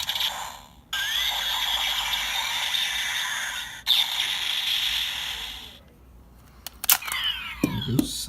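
A Kamen Rider W DX Double Driver toy plays an electronic charge-up sound: bursts of high whirring and buzzing tones separated by short pauses, followed by clicks and rattling handling noise near the end.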